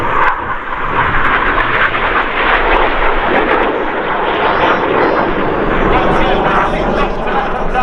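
Red Arrows display jets fly at the Old Buckenham Airshow, making a loud, steady, broadband roar that fills the whole clip without letup, with a commentator talking over it.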